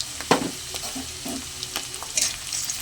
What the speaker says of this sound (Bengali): আর একটু ভালো করে আমি আদা রসুন বাটা পেঁয়াজ একটু ভালো করে ভেজে নেব